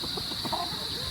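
Fighting-cock chickens clucking on a backyard farm in Guinobatan, Albay, a brief burst of close clucks over a faint hiss.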